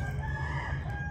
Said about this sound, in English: Those roosters know, son.